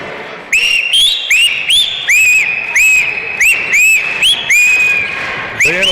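Inside a gym at a boys varsity high school basketball game, a referee's whistle gives a rapid series of shrill, loud chirps and short blasts, one after another, with little else around them.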